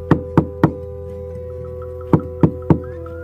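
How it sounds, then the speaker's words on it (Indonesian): Someone knocks on a house door from outside at night: three sharp raps, a pause, then three more, heard over a low steady hum. "tiba-tiba pintu rumah diketuk dari luar"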